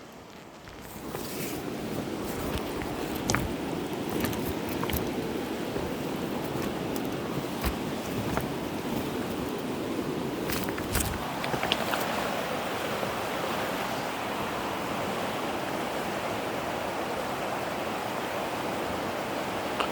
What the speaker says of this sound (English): This is the Mackenzie River.